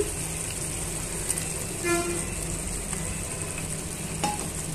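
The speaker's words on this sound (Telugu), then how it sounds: "ఇప్పుడు మనం ఫ్రై చేసి పెట్టుకున్న బెండకాయని మనము ఈ కర్రీలో యాడ్ చేసుకోవాలి." Fried okra tipped into a simmering curry in a pan, with a steady sizzle and faint scraping as it is mixed in, one brief clatter near the middle.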